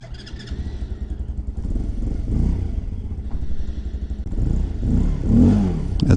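A 2019 TaoTao Hell Cat Raptor 125cc Grom-clone motorcycle engine runs steadily close by, a loud continuous mid-pitched drone that swells slightly in the second half with a few throttle rises.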